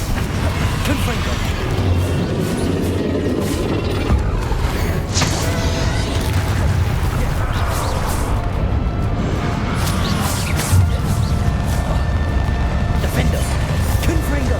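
Confringo fire-spell blasts striking targets during combat in the video game Hogwarts Legacy, with repeated booms, crashes and whooshes layered over dense battle noise and occasional voices.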